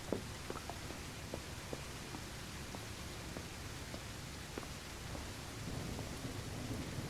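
Steady rain pours on a rainy night in a video game, a constant hiss with soft rumbles of thunder underneath and faint scattered drips and taps, continuous and fairly quiet with no talking.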